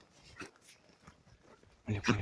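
A jagdterrier being set onto a blood trail gives soft whimpers and short yips, fairly faint and scattered, then a louder burst of dog noise near the end.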